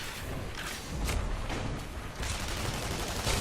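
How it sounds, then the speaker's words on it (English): Sniper rifle headshots in a shooter video game, a dense burst of repeated gunfire and thuds over continuous busy game noise, with no voices. "Here come the sniper headshots."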